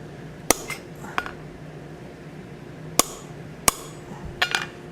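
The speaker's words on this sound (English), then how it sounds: "we're going to go ahead and start our punched hole through the front side" A blacksmith drives a punch through hot steel on an anvil while forging a plant hanger. Several sharp, ringing hammer blows land at irregular intervals over a low background hum, with a quick flurry of strikes at the end.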